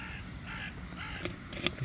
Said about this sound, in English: Check out all these crows.